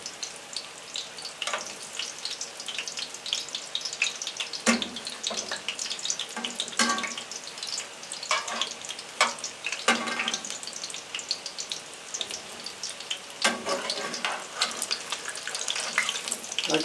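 Stuffed chicken egg rolls fry in hot oil with a steady, close crackling sizzle, broken by brighter bursts of popping and a few faint clinks, and no voices.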